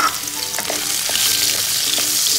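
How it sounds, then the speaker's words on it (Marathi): Carrots frying in oil in a pan as a tempering for a Kolhapuri mixed vegetable dish, a steady close sizzle with a few stirring scrapes and no talk. "आता आपण एका पॅनमध्ये थोडेसे तेल घेतलेले, त्याच्यामध्ये आता आपण दुसरी फोडणी देऊ"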